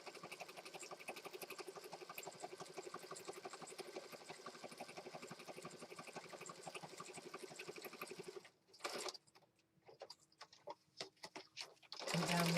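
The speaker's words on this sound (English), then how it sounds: "now I'm just going to stitch across here and go all the way around" A sewing machine stitching around the edge of a paper planner journal page runs with a fast, steady mechanical whir for several seconds, then stops and gives way to faint handling noises and a short restart.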